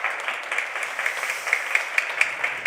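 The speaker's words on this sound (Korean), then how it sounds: "오늘 다시 한번 우리 특순해주신 우리 세 분께 박수" A church congregation at a Sunday worship service applauds three performers after a special musical number: brisk, even clapping from many hands, fairly close and continuous for a few seconds.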